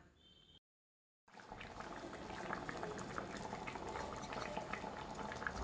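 Squid gravy simmers with water in a covered pot, giving a steady, dense bubbling that starts after a brief silence and continues softly but evenly to the end.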